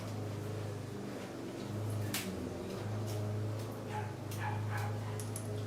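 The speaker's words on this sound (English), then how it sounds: "That's all we need is a yappy dog on top of the lawnmower." A small yappy dog barks in short, sharp bursts at a distance while a lawnmower drones steadily in the background of an outdoor garden setting.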